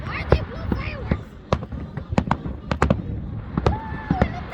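Fireworks burst at Atlantis Palm Jumeirah in Dubai during UAE 50th National Day celebrations, with a rapid irregular string of sharp cracks and booms. Nearby spectators cheer and talk over the explosions.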